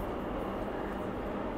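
A metro train pulls out of Dakshineswar station on the Kolkata metro line, a steady broadband rumble of rolling stock and motor noise held close and constant throughout, with no voices.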